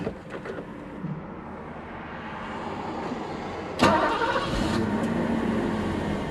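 A 1987 Mercedes 560SL runs with a steady low engine hum inside the cabin, broken by a sharp mechanical thump partway through before the engine noise continues.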